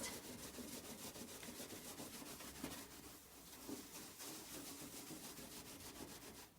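A kitchen surface is scrubbed clean with a rhythmic, continuous rubbing that stays quiet and close and keeps a steady stroke pattern throughout.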